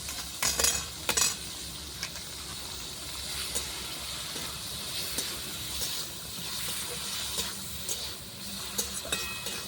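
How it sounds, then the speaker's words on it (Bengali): Chicken pieces coated with turmeric, chilli powder and salt fry in a pan over a clay stove, giving a steady soft sizzle and hiss with a few brief clatters of stirring near the start. "ভালো করে চিকেনটা ভেজে নেবো। ঢাকা দিয়ে দিয়ে চিকেনটা ভেজে নেবো।"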